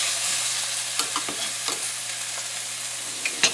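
Slices of liver fry in a pan with a steady, dense sizzle, close and loud, broken by soft scrapes and taps as pieces are turned over.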